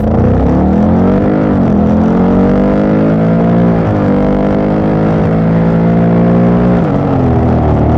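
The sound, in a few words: motorcycle engine accelerating hard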